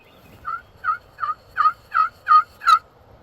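A wild turkey gobbling during an Alabama turkey hunt, a rapid run of seven evenly spaced, rising gobble notes that sound fairly close and loud over a quiet background.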